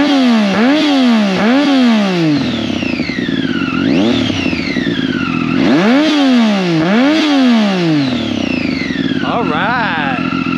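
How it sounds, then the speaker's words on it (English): Triumph Daytona 675 sport motorcycle in neutral, engine revved hard in repeated sharp blips that rise and fall, loud and close, with a higher whining rev sweep midway and a final burst near the end. "Rev bomb!"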